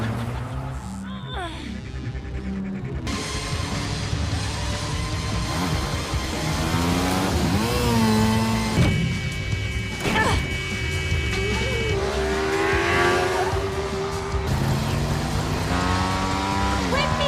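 A getaway car speeds off in a film chase scene, its engine roaring and revving loudly beneath music, shouting voices and crash impacts.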